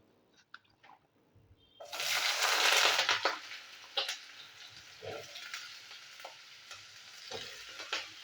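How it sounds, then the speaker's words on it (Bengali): Potato strips fry in a little hot oil in a wok, a loud steady sizzle that flares up and then settles, with scraping stir clinks and rustles running through it. "তো আলুগুলো আমি ভেজে নিচ্ছি এখন।"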